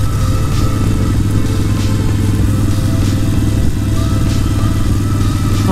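A motorcycle engine drones steadily and loudly throughout a ride, with constant wind rush and road noise and no talking.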